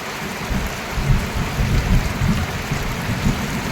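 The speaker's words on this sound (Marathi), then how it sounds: "बराच वेळ झाला पाऊस चालू आहे" Heavy rain pours down steadily on a farm, a dense continuous roar of rainfall with no voices, loud and close throughout.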